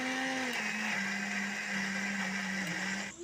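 A blender whirs steadily at high speed, pureeing mango pulp into a paste, its motor pitch dipping slightly before cutting off abruptly near the end.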